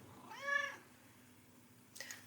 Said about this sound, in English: my cat decided to join in. She says, meow.